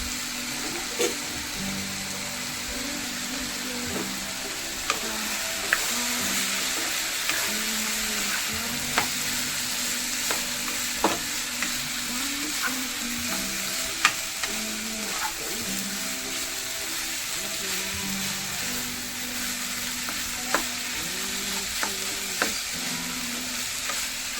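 Chicken for burgers cooks in an uncovered pan, a continuous sizzle and bubbling broken by repeated scrapes and taps of a spoon stirring at a steady, unhurried pace.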